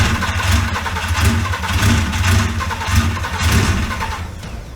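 A Porsche engine fitted during an engine swap cranks on a start attempt, a close, loud, rhythmic churning with repeated surges that never quite catches, then tails off at the end, with no one speaking.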